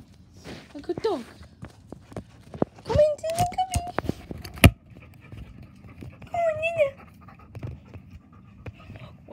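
Dog panting and moving about indoors, with quick breathy pants, soft footsteps and clicks heard close by while people talk over it and a voice comes through.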